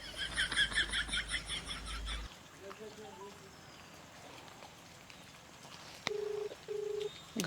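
A phone call's ringing tone comes in as two steady, repeated tone bursts near the end, after a stretch of quieter background sounds and a pulsing, chirpy passage at the start.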